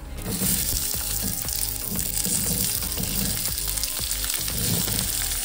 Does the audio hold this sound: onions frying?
yes